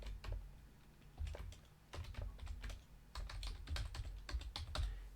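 Python command being typed on a computer keyboard: quick bursts of close, crisp key clicks in uneven rhythm with brief pauses between strokes, no voices.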